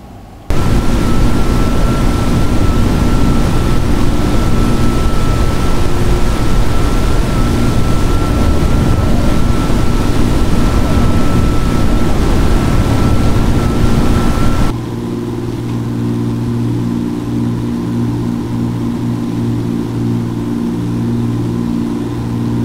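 Siai Marchetti SF-260 aircraft engine in the X-Plane 11 flight simulator, a loud steady droning roar with a faint whine that drops to a quieter, lower hum about two-thirds through.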